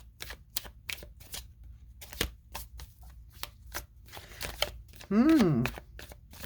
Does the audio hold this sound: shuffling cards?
yes